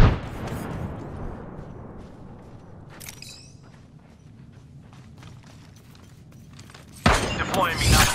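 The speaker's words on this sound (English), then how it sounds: "Firing a frag." A frag grenade is launched in the Apex Legends shooter, with quieter game sounds and a brief metallic cue before a sudden loud, roaring explosion bursts in near the end.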